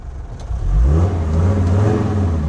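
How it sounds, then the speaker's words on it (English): An engine revs up under throttle on a vehicle leaving Glen Coe, Scotland, swelling within half a second into a loud, steady close drone that holds to the end with no talking. "Give her a bit of throttle and she makes some noise though."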